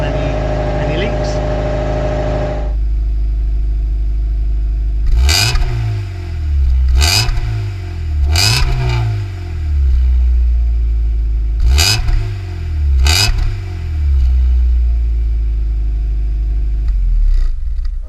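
Mazda MX5 Miata with a decat exhaust revving in repeated short bursts, each sharp rise followed by a fall back to a steady idle, loud and close with no talk.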